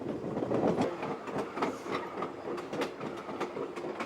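Alaska Railroad train running along tracks past snowmelt waterfalls below the Kenai Mountains, a steady rumbling roll with faint rhythmic wheel clacks throughout at moderate distance.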